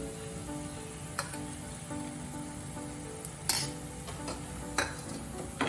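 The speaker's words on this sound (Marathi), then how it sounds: "आपला हा आता कांदा भाजत आलाय" Onion fries with ginger-garlic paste for stuffed eggplant curry, giving a faint, continuous low sizzle. A few light scraping clinks from a spoon stirring in the pan sound now and then, with no voices.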